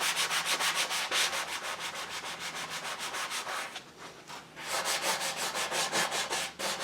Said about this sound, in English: now I'm just sanding it out